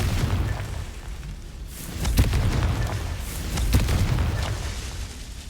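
A Confringo fire spell explodes in Hogwarts Legacy, producing a couple of booming, crackling bursts over a low rumbling game background, each swelling for about a second before fading.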